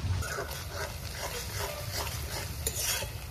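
Chopped onion and whole spices such as bay leaf, dried chilli and cumin fry in hot oil in a wok, a close and continuous crackling sizzle with a few stirring scrapes and no talk.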